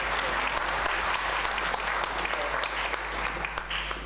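Applause from a community meeting audience for a local councillor, a steady dense patter of many hands clapping at moderate distance, continuous for several seconds in a hall with faint room hum.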